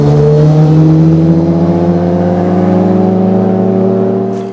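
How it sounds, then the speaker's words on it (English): Motorcycles passing on a nearby road, a loud sustained engine drone with steady harmonic tones that hold level, then fade away at the end as they move off. "Oh, here comes some motorcycles."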